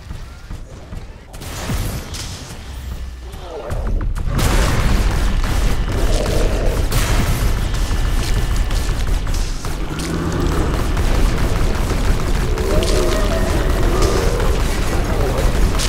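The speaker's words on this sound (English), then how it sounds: "A portal has been destroyed." A portal being destroyed in the video game The Riftbreaker: loud, sustained rumbling booms and blasts that roll on continuously after a quieter opening, with a synthetic announcer voice over the top.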